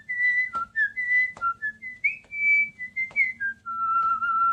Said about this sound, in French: Qui ne prend pas de plaisir à siffloter un thème de Mario ou de Zelda en toutes circonstances?